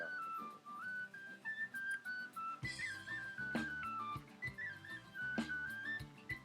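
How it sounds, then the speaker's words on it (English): An Irish tin whistle plays a lilting melody, bright and airy, accompanied by backing instruments with a steady rhythmic pulse. "It's a whistle. Yeah, it's an Irish."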